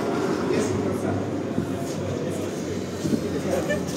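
A tram rumbles through Lviv's hot city centre near the market square, a low steady rolling drone in the street with voices talking over it.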